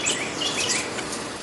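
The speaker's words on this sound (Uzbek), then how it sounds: "antiqa uychalarga turli tuman qushlar uchib keldi" Various birds chirping around birdhouses in a garden, light high-pitched tweets scattered over a steady outdoor hiss, fairly faint and continuous.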